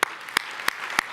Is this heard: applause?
yes